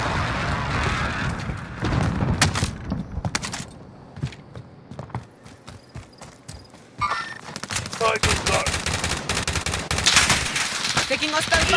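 Close, rapid machine-gun and rifle fire in Call of Duty: Warzone comes in repeated dense bursts, with short lulls between them and players talking over the shooting.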